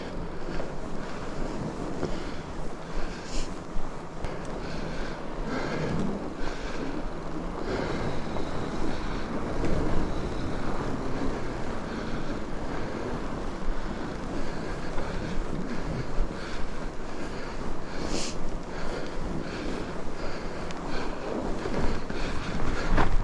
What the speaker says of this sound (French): Très léger vent.